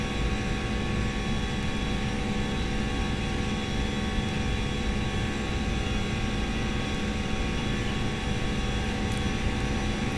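Aerosoft A320 jet engines roar steadily at takeoff power during the takeoff roll in a flight simulator, a loud continuous drone with a thin high whine and no spoken voices.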